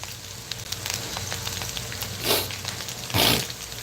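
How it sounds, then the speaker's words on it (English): Bodi and aloo sizzle and crackle steadily in a hot pan on low heat, a dense hissing texture with a couple of louder bursts of spattering. "we have it frying here. You can hear the sizzling."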